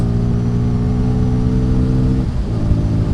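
A Bajaj Pulsar N250 motorcycle engine revs hard at high RPM, a loud, steady, close drone with a brief dip and shift in pitch toward the end.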